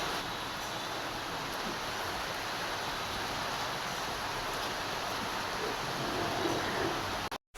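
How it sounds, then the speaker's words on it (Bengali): Steady rain falls continuously at moderate volume, a dense broadband hiss with no talk, ending with a brief dropout at the very end. "এই যে বৃষ্টি"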